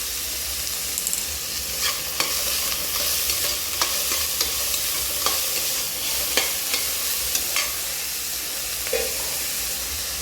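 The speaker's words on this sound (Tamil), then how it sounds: "இப்போ வெட்டி வச்ச வெங்காயத்தை போட்டுக்கலாம். வெங்காயம் வதங்குறதுக்கு உப்பு சேர்த்துக்கலாம்." Chopped onions with salt sizzle and fry steadily in a hot pan, with scattered sharp crackles and occasional stirring clicks throughout; no voices.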